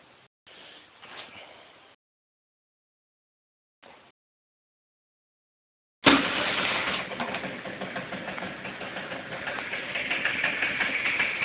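A Piaggio NRG scooter engine, fitted with a new spark plug and idle for a week, starts after near silence and a few faint sounds. It catches suddenly and runs loud and steady with a slightly uneven buzz to the end.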